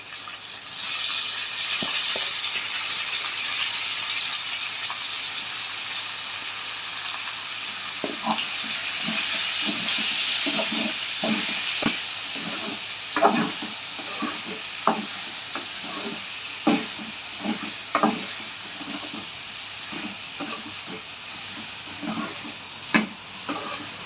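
Cleaned, turmeric-washed prawns fry in a pan for a prawn varuval, with a steady bright sizzle throughout. A spoon scrapes and stirs in repeated clatters that grow busier partway through.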